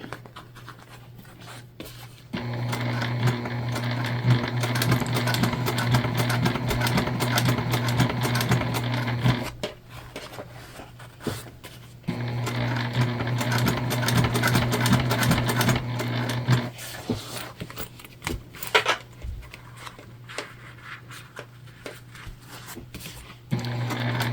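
A sewing machine stitches fabric for a beginner-friendly heart project in two long steady runs of close rapid mechanical clatter, separated by a pause with light handling noise and fabric movement.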